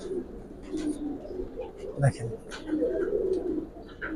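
Giribaz pigeons, silver and old-breed types, coo in a loft with a continuous low warbling, close by, while someone speaks briefly over them.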